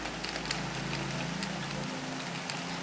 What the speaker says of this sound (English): The rain is really hard